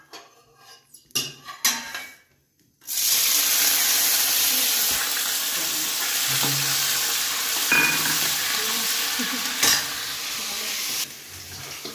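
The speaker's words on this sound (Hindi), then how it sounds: "तेल रेडी हो गया, तेल गर्म है, अब इसके अंदर डालेंगे जीरा।" After a few soft knocks, a loud burst of sizzling erupts as cumin seeds hit hot oil, crackling steadily with occasional clinks of a utensil.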